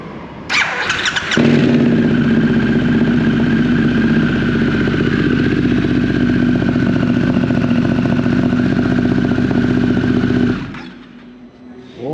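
A Harley-Davidson Pan America 2022 motorcycle at a dealership service centre cranks and fires almost at once, then idles loudly and steadily for about nine seconds before cutting off.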